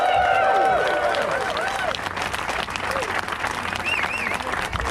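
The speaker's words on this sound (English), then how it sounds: "Big round of applause for the safety crews and the corner workers." Crowd applause fills an outdoor awards ceremony for a motorsport stunt event held in a racetrack paddock, a steady wash of clapping with a few whoops and voices riding over it from start to finish.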